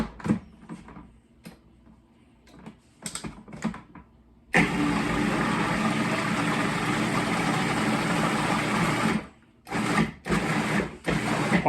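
A food processor chopping ginger for a tandoori marinade whirs loudly for several seconds in one sustained run, then gives a few short pulses, with quiet kitchen clatter before it starts.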